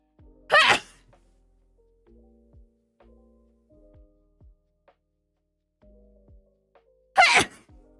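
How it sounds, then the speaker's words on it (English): Two loud, sharp sneezes several seconds apart, each a sudden burst standing out against near silence with faint small knocks in between. "I have a very loud sneeze"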